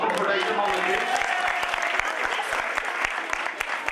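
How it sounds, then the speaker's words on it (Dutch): An audience claps for a team of young F-pupil football players at a Dutch youth football event, a steady outdoor patter of hands with some voices mixed in throughout. "Zullen we daar ook even voor klappen voor deze mannetjes?"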